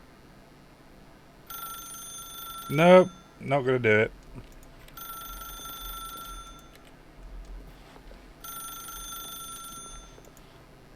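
A telephone rings in the video game The Stanley Parable, three bursts of bright electronic ringing spaced several seconds apart, with a voice briefly speaking over a quiet stretch between the first and second rings.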